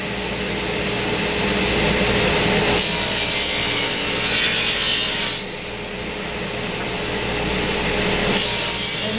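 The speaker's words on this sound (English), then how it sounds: "we'll go to the bandsaw and cut off the stock close to the line" Bandsaw cutting 3/4 inch plywood stock, a loud close rasping whine of the blade through wood with the pitch of the cut shifting in a few distinct passes.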